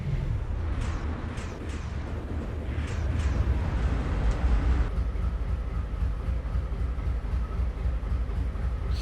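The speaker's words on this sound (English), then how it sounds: "Here comes the other train." A coal train passes in Train Simulator on the NS Coal District route, a loud, low rumble of rolling wagons with sharp clanks and rattles early on, settling into a steady roar.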